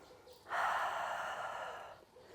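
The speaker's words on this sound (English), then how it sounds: "Nice big breath in." A single long, soft breath during a yoga toe stand, a smooth airy exhale swelling and then fading over about a second and a half, close and quiet with no talk.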